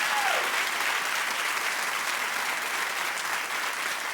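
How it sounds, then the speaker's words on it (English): Studio audience applause on a daytime talk show, a dense, sustained wash of clapping that stays loud and even from start to finish. "Keep clapping."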